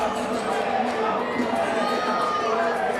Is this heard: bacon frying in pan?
no